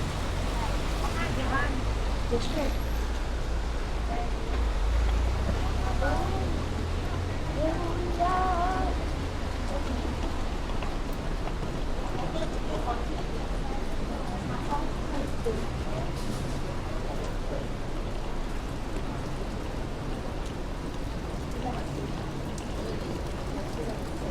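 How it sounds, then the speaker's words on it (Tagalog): Heavy rain pours steadily in Hong Kong, a continuous hiss with gusts of wind, while people talk throughout close by. "Lakas ng ulan eh."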